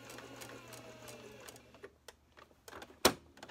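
A sewing machine stitches fabric for a dog diaper in short rapid bursts, fairly close and quiet, with brief pauses and a sharp clack near the end.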